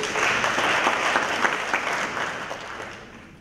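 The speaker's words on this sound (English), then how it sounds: "Give me a round of applause." Seminar audience at a career coaching talk breaks into brisk, dense applause with a few sharper claps standing out, tapering off toward the end.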